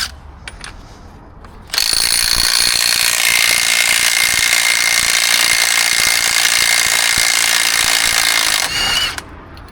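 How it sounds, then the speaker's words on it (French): A power tool spins driveshaft nuts off a Renault Kangoo in a loud, continuous mechanical whir that lasts about seven seconds, with rattling clicks just before and after it. "Je vais enlever les écrous de cardan."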